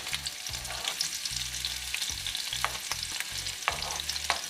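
Onion, sweet pepper and other vegetables saute in hot oil in a pot for Jamaican brown stew chicken, a steady sizzle broken by repeated scraping stirs of a spoon against the pot.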